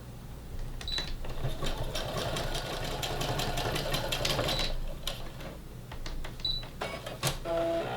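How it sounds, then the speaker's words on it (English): A sewing machine top-stitching along the edge of a fabric face mask, a close, fast mechanical whir and rapid needle clatter running steadily with brief pauses and restarts near the end. "so we're going to go right along the edge and just make a nice tight top stitch"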